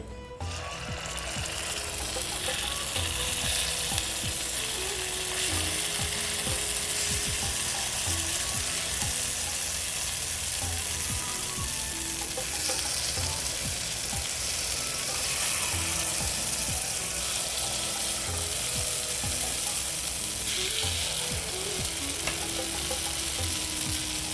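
White sorghum paniyaram batter frying in a paniyaram pan, a steady loud sizzle and crackle filling the whole stretch with faint occasional metallic scraping, no talking.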